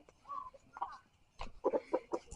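Several short clucks from a rooster in a quick irregular run, fairly close, with brief pauses between bursts.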